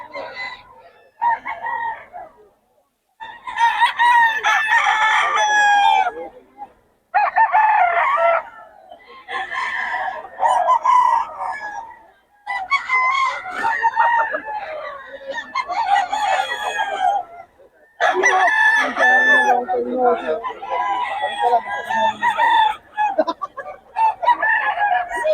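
Loud, close rooster crows and clucks from many fowl in a crowd of birds at Bocaue, with repeated crowing bursts separated by short pauses throughout and no clear voices.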